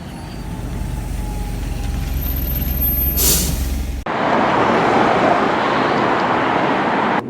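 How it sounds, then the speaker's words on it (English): Steady road and engine rumble from the 826 bus to Lichfield City Station in the West Midlands, with a sharp hiss of air brakes partway through, then continuous loud motor and traffic noise. "I'm just catching the 826 bus to get me to Lichfield City Station"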